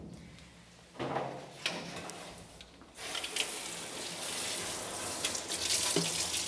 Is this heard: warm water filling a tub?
yes